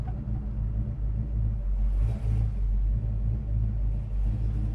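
A 1970 Chevrolet Chevelle SS V8 idling at a stop, a deep, steady low rumble with a slightly lumpy pulse, close and continuous without any talk.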